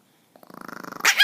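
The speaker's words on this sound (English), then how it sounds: "Please don't growl at me." A dog growls in a rapid rhythmic rattle for under a second, then breaks into two loud, sharp barks, close to the listener with no talk over it.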